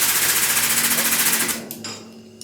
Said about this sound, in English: My compressor's probably going to come on